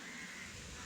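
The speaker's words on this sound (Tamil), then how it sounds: "வாவ், எவ்வளோ பேர்ட்ஸ் இது" Many birds call continuously at a distance during rainy weather, likely crows cawing against a steady broadband wash of rain.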